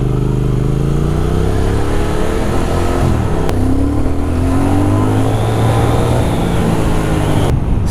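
A Triumph Speed Twin motorcycle is ridden on a test ride, its engine droning loud and steady throughout with rising and falling revs as it accelerates and shifts, joined by rushing wind noise.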